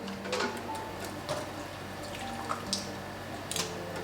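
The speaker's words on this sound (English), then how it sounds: "I'm just going to strain off some of this extra liquid" Excess liquid strained off freshly blanched leafy garden greens in a kitchen, heard as quiet scattered drips and small wet squishes with soft clinks, faint and intermittent.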